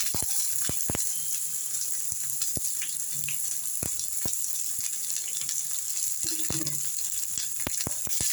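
Ginger, chilies, onions and curry leaves sizzling in oil in a pan, a constant hiss with scattered sharp pops and clicks of stirring, no voices.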